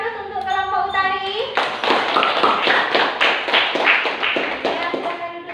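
Classroom applause for a student group breaks out after a voice, a lively patter of many small hands clapping, close and fairly loud, with murmured voices underneath for several seconds.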